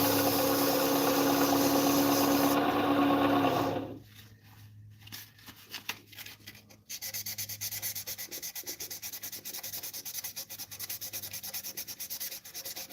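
Steady abrasive rubbing of sandpaper against a spinning cherry or walnut slimline pen over a lathe's motor hum, pausing briefly midway before the sanding resumes.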